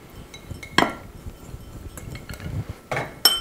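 Crumb mixture is spooned into two small glass bowls, with repeated clinks of a utensil against glass and several sharper taps against a quiet background.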